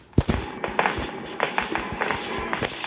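Grandpa's shotgun fires in the Granny remake horror game: one sharp, loud blast near the start, then a run of lighter thuds and taps like hurried footsteps.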